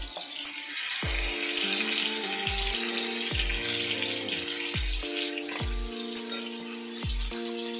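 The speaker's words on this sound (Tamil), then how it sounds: "காஞ்சதுக்கு அப்புறம் இத போட்டு ஃப்ரை பண்ண போறோம் ஆயில் ஹீட் ஆனதுக்கு அப்புறம் ஒவ்வொரு ட்ரம்ஸ்டிக்கை போட்டு எடுத்துக்கலாம்" Chicken drumsticks frying in hot oil in a pan, a steady bright sizzle running throughout, with repeated low tonal clunks roughly every second, close and fairly loud.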